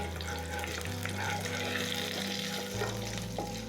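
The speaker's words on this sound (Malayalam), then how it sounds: "അപ്പം കടുവും പൊട്ടി കറിവേപ്പിലയും ഇപ്പോൾ ഒന്ന് സെറ്റായി വരുന്നുണ്ട്" Mustard seeds and curry leaves sizzle and fry in a very hot pan while being stirred, a dense continuous crackle with scraping of the stirring, heard close up and without speech.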